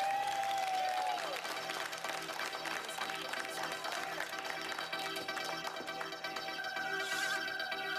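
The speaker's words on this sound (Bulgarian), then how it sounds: "моля за вашите аплодисменти" An audience at a staged table-game bout applauds, a steady wash of clapping under a bright musical tone and background noise, moderately loud and continuous.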